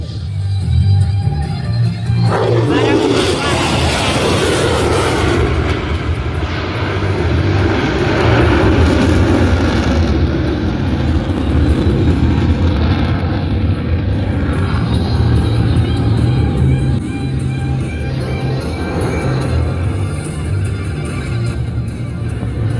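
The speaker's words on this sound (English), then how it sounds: "slide the tail of the F-35 through the turret, and then powerfully climb out of the maneuver" An F-35A Lightning II jet roars past at an air show. A sudden loud blast of engine noise swells, then stays as a sustained heavy rumble and whoosh that slowly fades.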